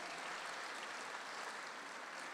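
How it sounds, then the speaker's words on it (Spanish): Applause from a church congregation welcoming visiting brethren during a Christian sermon, a steady dense wash of many hands clapping at once, even and continuous from start to finish. "A los hermanos que está de México, vamos a dar un fuerte aplauso"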